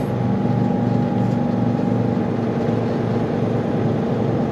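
A Melton truck hauling pipe arrives at a loading area in cold weather, its steady engine drone and road rumble holding level and continuous throughout, fairly close, with no voices.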